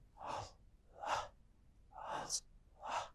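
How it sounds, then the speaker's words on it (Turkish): Four slow, airy breaths drawn in and out close by, evenly spaced with short quiet gaps, no speech. "Sadece nefes alıyorum."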